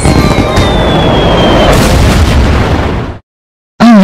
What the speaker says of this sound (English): I've completely injured so insanely after the fireworks exploded